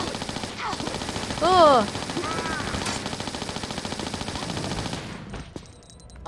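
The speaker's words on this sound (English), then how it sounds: "Right, I'm using these Uzis." Uzis fire in Tomb Raider: Chronicles, a rapid, continuous rattling burst of machine-gun shots that runs for about five seconds and then stops. A brief vocal exclamation and a short ringing tone cut in partway through.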